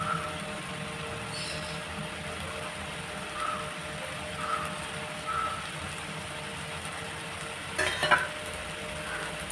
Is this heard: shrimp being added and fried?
yes